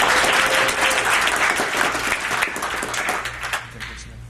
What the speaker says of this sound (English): big round of applause for Ethan.